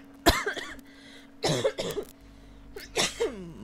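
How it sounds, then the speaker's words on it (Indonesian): Three separate harsh coughs, close to the microphone, each followed by a short raspy trail, with quiet pauses between them. "Bonus batuk dari gua"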